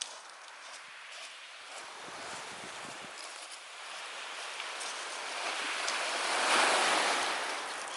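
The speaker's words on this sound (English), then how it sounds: "It's beautiful, isn't it, the sound of the ocean?" Ocean waves at Milford on Sea wash onto the shore in a broad, continuous roar that swells toward the end, with some wind noise and no talking.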